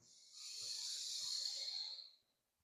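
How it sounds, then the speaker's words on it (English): One person slowly drawing in a deep breath, a soft airy inhale that swells and fades over about two seconds in a quiet room. "just breathe a nice big breath in"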